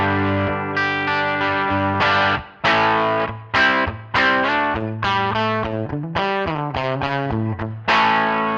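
Electric guitar through a Line 6 Helix preset modeled on a US Princess amp, with a slight edge of breakup, playing a lively run of chords and single notes, loud and alone.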